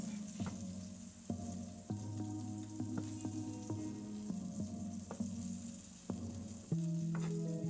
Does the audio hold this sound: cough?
no